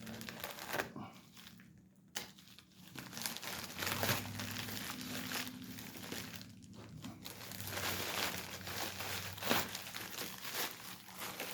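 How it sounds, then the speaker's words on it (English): A cardboard box is pried open by hand without a blade, giving faint, close crinkling, crumpling and tearing noises in irregular bursts with no voice. "Trying to open this without cutting the box."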